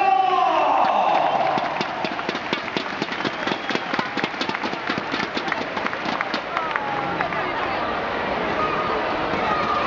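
Audience at an indoor motorcycle trial exhibition in the Riazor sports pavilion applauds and cheers, dense sustained clapping filling the hall alongside crowd noise and a commentator's voice.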